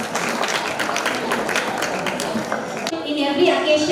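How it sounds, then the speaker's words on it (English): Audience applause fills a school graduation ceremony hall, a dense steady clatter of many hands for about three seconds before it thins out into a murmur of room noise. "Give a huge round of applause."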